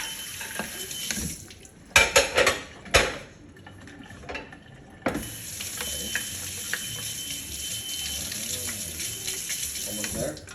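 Dishes, bowls and cutlery are loaded into a dishwasher, with a quick burst of clinks and clatters near the start, then a steady, washy background noise with occasional faint knocks.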